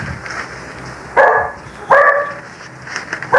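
A dog barks three times in sharp, loud bursts spaced about a second apart, close by indoors over low background noise.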